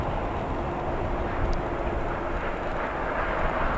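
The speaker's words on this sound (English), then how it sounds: "Our next arrival, a Southwest Airlines Boeing 737-7H4 from Nashville" Southwest Airlines Boeing 737-7H4 arriving at O'Hare International Airport, a steady distant broadband jet roar with faint whine, constant and moderately loud throughout.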